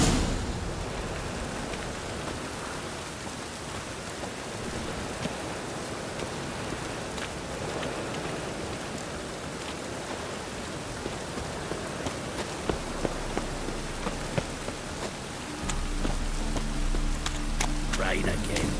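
Steady rain pours down in a broad hiss throughout, with a low rumble and some busier tones joining near the end, in the video game The Witcher 3: Wild Hunt.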